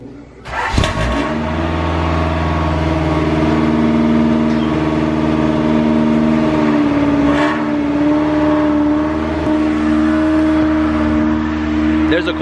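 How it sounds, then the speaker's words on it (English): A quad ATV on its stock muffler cold starts with a brief crank, catches and settles into a loud, steady idle close by, with a voice talking briefly over it. "So here's gonna be a little cold start for you guys."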